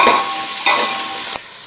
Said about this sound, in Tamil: சேர்த்து அதையும் ஒரு கிளறிடுங்க.